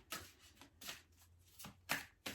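Oracle cards from a mirror-themed deck being shuffled by hand, a quiet sequence of soft papery riffles and slaps arriving in about five short bursts, close and alone with no talking.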